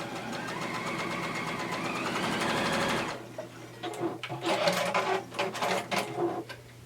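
Domestic sewing machine stitching fabric for a coatigan: a steady, rapid mechanical whirr for about three seconds, then it stops, leaving softer handling clicks and rustling fabric.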